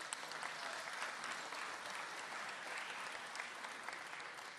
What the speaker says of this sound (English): So let's give Brian Hanlon another round of applause for heading up DGS.